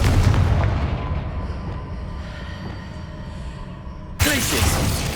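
In the video game Hogwarts Legacy, the Confringo fire spell explodes with a loud, rumbling blast that fades away. A second sharp burst follows near the end.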